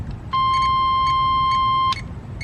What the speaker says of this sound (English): That beep tells you, hey, your lights are on.